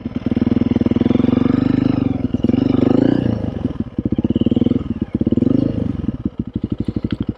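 Honda CRF 300L dual-sport motorcycle engine revving hard near redline while riding, a loud, steady close-up drone with brief dips between gear changes and a throbbing, pulsing idle toward the end.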